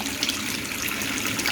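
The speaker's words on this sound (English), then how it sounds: "Water's running fine" Water runs steadily from a tap in a rental property during a move-in inventory check, a constant close splashing hiss with no talking.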